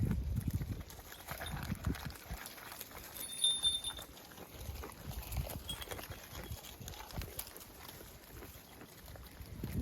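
A grazing herd of goats shuffles about outdoors, with soft, scattered hoof steps and rustling throughout, faint and steady with no voices.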